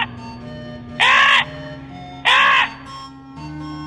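A crow caws twice in close succession, loud harsh calls standing out over a steady low hum and background tones, with a fainter third call near the end.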